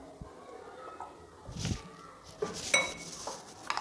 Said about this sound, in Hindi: और ये सारी चीज़ें अच्छी तरह से मिक्स करूँगी।